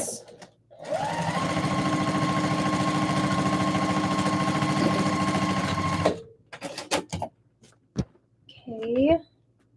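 A sewing machine runs in one steady, loud burst of stitching for about five seconds while Etsy orders are finished in a small studio, then stops, followed by scattered clicks and handling noises and a brief voice.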